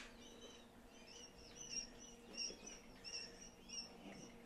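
Coturnix and Tibetan quail chirp softly while being handled, with thin high peeps repeating at irregular intervals over a quiet, faint background.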